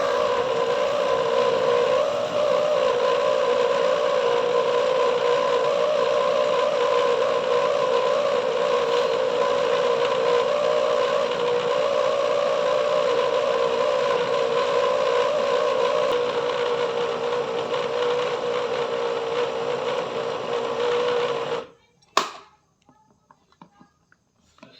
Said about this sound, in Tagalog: ang ingay-ingay ng motor